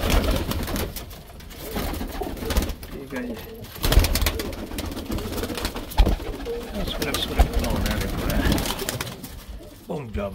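High-flyer pigeons on a roof coo in repeated low, throaty phrases close by, mixed with wing flutters and someone talking over them.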